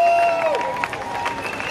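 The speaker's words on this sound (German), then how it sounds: "Applaus bitte." A large outdoor crowd at the opening of Berlin Pride (CSD) in July 2022 applauds and cheers, a steady, dense wash of clapping and shouts with a voice briefly carried over it.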